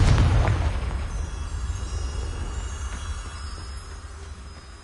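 A Confringo blasting spell goes off in Hogwarts Legacy on PS5, with a sharp explosive boom at the start that rolls into a long, heavy rumbling decay, with no voices.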